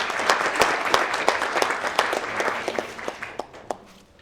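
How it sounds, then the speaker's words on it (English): An audience at a school assembly gives a student a round of applause: dense, close clapping from many hands that holds steady, then thins and tapers off toward the end. "So a round of applause for Jenna."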